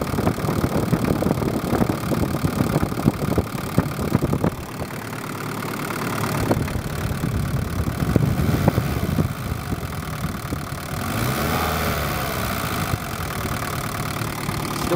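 A Daihatsu turbo diesel engine idles steadily nearby after revving, with a rough, throbbing rumble, the revs hanging then easing and settling over the course of the clip.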